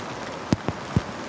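Pouring rain falls on a golf course, a soft steady hiss punctuated by a few distinct drop-like taps.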